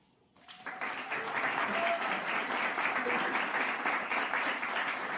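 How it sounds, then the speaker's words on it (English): A gala crowd breaks into applause that swells quickly and holds steady, a dense clatter of clapping hands continuing to the end. "Thank you for that round of applause for our sponsors"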